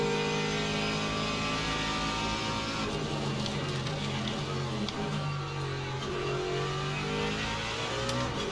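GT3 race cars, including a Corvette and a Ferrari, roar around the Bahrain circuit in the Le Mans Ultimate racing game, a dense, continuous layered engine drone with pitch sweeping up and down as they rev and shift, loud and unbroken, with no talk.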